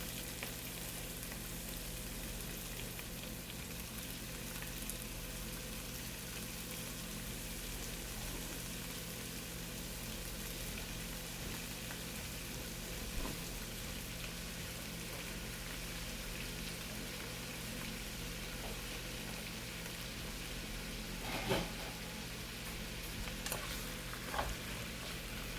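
Ground beef for chili fries in a pan with a steady, low crackling sizzle that carries on throughout, with a few faint pops and stirring scrapes and no talking.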